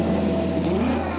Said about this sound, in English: The unmuffled engine sounds remain a piece of racing history